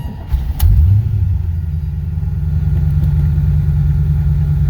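C4 Corvette project car cranking briefly, then its engine catching and settling into a loud, steady low idle rumble close by.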